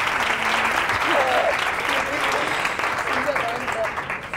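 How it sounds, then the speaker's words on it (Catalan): Studio audience applauds steadily at a Catalan TV quiz show as a school team's score is announced, a dense even clatter of clapping with faint voices calling out beneath it. "Aplaudiment!"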